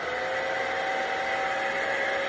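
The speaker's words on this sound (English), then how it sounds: "your moms might have a hair dryer that has a cold option" A hair dryer blows with a steady, even whir and airy hiss, close by and constant throughout, with no voices.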